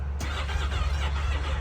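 A side-by-side's engine cranks on a weak battery with a low, labored churning rumble, sluggish and continuous as if struggling to turn over.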